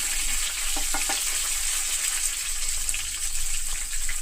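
Garlic frying in oil for a Telugu tempering (popu) over low heat, a steady close sizzle with a few brief knocks of a utensil early on.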